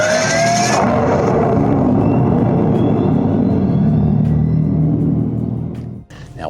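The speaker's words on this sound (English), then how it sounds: "fire it up and you'll hear just what it sounds like. I know it won't do justice picking up on camera, but it sounds like a jet engine firing up" A 2025 Dodge Charger Daytona EV R/T starts up and plays its synthetic exterior-speaker sound, a loud jet-like roar with rising whining tones that builds and holds close, then cuts off sharply near the end. A brief word is spoken.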